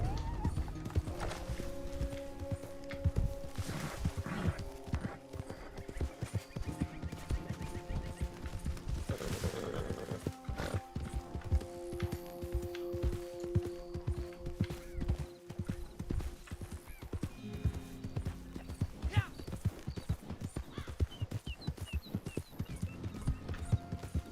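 Horse hooves clip-clopping steadily in the Red Dead Online video game, a continuous close rhythmic trot with an occasional whinny and faint mechanical clicks, running without talk for the whole stretch.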